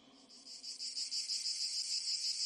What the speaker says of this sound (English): did you guys do cricket sounds for me?